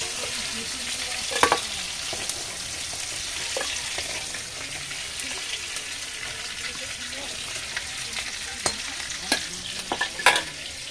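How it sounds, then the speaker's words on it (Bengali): Lightly fried prawns are lifted out of hot oil in a wok, a continuous close sizzle broken by sharp scraping and clinking stirs throughout. "হালকা করে ভাজা হয়ে গেছে এবারে আমি চিংড়ি মাছগুলোকে তুলে নেব"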